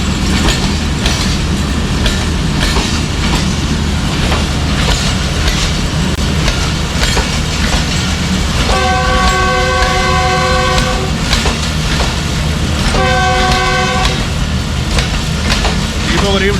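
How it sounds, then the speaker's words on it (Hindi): Mehar Express passenger coaches rumble past nearby with steady clickety-clack over a constant loud roar, while two bursts of a horn-like tone ring out in the middle of the passage. "मेहर एक्सप्रेस का एक डब्बा लगा हुआ है बीच में।"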